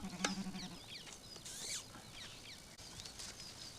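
Sheep on a farm bleat briefly and faintly amid light background noise, with a short low tonal sound near the start and scattered higher cries.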